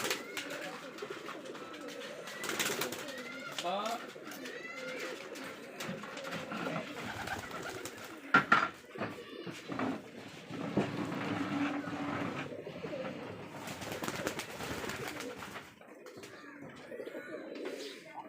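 Rajshahi Giribaz pigeons coo repeatedly close by in soft rolling phrases, while people talk intermittently in the background.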